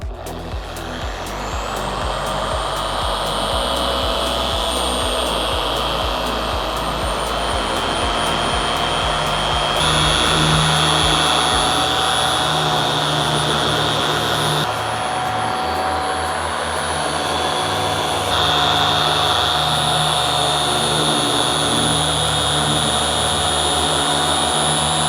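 A car paint polisher runs on speed setting 4, working P4 polish into the paint with a continuous loud whine and a few small shifts in pitch and load over about twenty-five seconds, with no talk.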